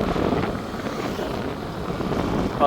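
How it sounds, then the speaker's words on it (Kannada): Wind rushes and buffets steadily, a continuous roaring whoosh close by, with no talking. "ಗಾಳಿ ಬರುತ್ತೆ"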